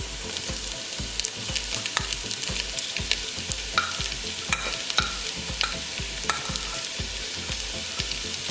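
Shallots sizzle steadily in a hot pan for a chicken dish while a spoon stirs them in rhythmic scrapes and clacks. The sound is close and continuous, with no voices.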